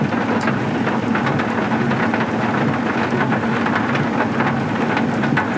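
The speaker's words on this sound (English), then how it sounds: "Quite heavy rain now." Heavy rain pours down at the Biamiti Causeway in Kruger National Park during a storm: a dense, steady, loud roar of drops with no pauses, close and enveloping, and no voices.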